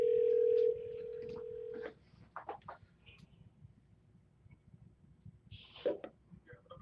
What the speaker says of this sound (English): So I'm calling you from the office.